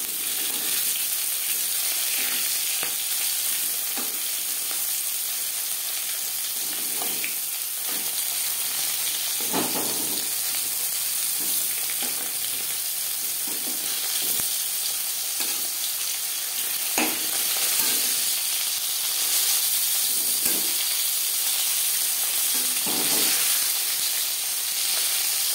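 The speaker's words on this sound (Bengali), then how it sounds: "উল্টে পাল্টে লালচে করে ভেজে নেব।" Slices of pointed gourd (potol) fry in hot oil in a pan, making a continuous close hissing sizzle broken by occasional light clicks and taps as pieces are turned.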